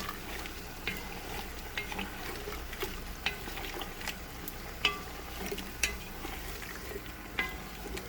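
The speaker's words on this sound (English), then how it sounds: "Let's give that a nice stir." A stir-fry with oyster sauce and soy sauce being stirred in a pan: steady soft sizzle under intermittent scraping and clinking strokes of a utensil, fairly quiet and close, no talking.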